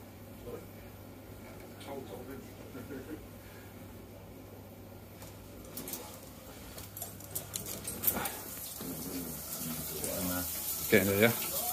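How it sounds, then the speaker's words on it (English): Hot water runs from a kitchen tap, fed by an electric combi boiler, with a steady hiss that grows louder toward the end, while people talk quietly in the background. "We'll run a hot tap in the kitchen"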